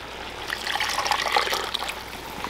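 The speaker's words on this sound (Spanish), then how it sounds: "Y le voy a poner también más agua" Water pours into a boiling pot of meat with chile, a steady splashing trickle lasting a couple of seconds, close and fairly loud with no talking.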